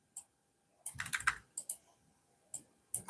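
Scattered keystrokes on a computer keyboard, a few isolated taps and a short quick burst of clicks, close and crisp against near silence, with no talking.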